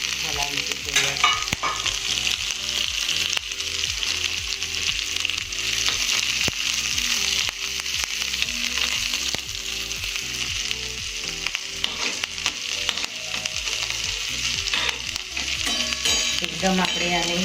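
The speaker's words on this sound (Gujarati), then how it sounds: "ત્યારબાદ મરચાંને આમાં એડ કરી દઈશું અને આને હલાવીશું થોડી વાર." Chopped ginger, cumin and chilies fry in a pan, sizzling loudly and continuously while a utensil stirs them with repeated scraping taps.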